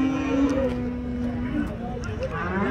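Punganur cattle at a weekly cow market, one long sustained moo rising and falling in pitch, loud and close, over a background of crowd murmur and distant voices.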